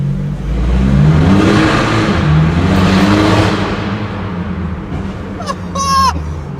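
A tuned Mercedes A-Class with Stage 2+ tuning revs loudly as it drives past, its engine note rising and then fading, followed by a few sharp bursts near the end.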